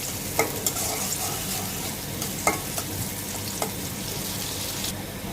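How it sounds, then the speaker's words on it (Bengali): Dried red chilies and garlic sizzle and crackle in hot oil as a tempering for stir-fried water spinach, a steady frying hiss with a few sharp pops and spatula stirs, close and alone without talk. "এখানে শুকনো মরিচ আর রসুন দিয়ে বাগার দিব এটা ভালো করে ভেজে নিব"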